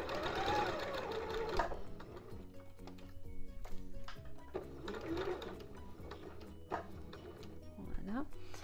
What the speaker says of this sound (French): vous allez avancer votre couture jusqu'à ce que votre aiguille se plante dans le trait rouge